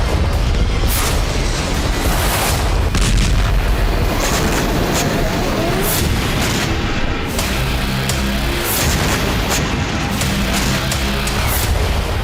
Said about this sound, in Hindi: रूस ने बीते 2 दिन से ओडेसा शहर पर बम वर्षा बंद नहीं की है।